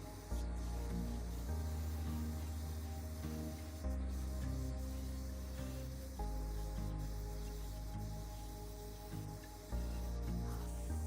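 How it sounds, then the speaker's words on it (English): Gray primer spray paint hisses steadily from a sprayer onto a thrift store nightstand, a continuous close airy spray with brief pauses and restarts between passes. "I just love spraying."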